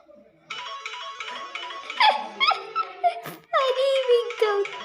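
A Samsung Galaxy J7 4G plays its funny ringtone, a loud, close, cartoonish string of giggling, squeaky, voice-like laughs and chirps in quick bursts with brief gaps.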